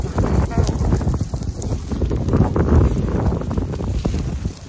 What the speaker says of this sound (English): South wind, got it going.